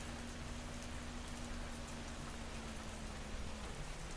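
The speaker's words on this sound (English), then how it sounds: "It's fucking rain." Steady rain falling in the video game Schedule I, a soft continuous hiss of drops at low level with a faint constant hum beneath, no voices.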